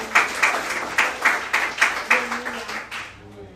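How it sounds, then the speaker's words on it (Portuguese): A church congregation claps in bursts of rhythmic, fairly close applause, roughly two claps per second, fading toward the end with a hint of voice underneath. "Quer aplaudir? Aplauda o Senhor no seu melhor."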